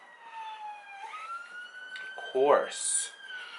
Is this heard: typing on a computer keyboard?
no